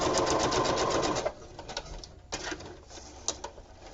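A sewing machine stitches corrugated cardboard with black thread, running in a fast rattling burst for about a second, then falling to scattered clicks and handling sounds.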